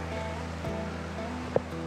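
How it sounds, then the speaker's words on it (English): Flowing water of a jungle creek, a steady wash and gurgle with faint low tonal hum underneath and a brief splash or knock near the end, no voices. "I just stopped right here by this beautiful creek."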